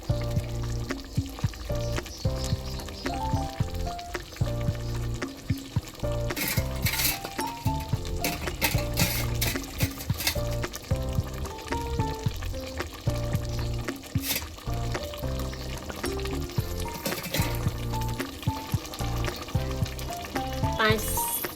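Potatoes for garlic potatoes fry and sizzle steadily in oil in a pan with occasional clinks and stirring, plus some background music-like tones throughout.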